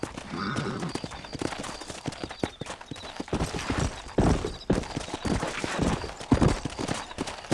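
Horses trotting in Red Dead Redemption on PS5, with rapid overlapping clip-clop hoofbeats, steady and close, and faint creaks and rustles of riding mixed in throughout.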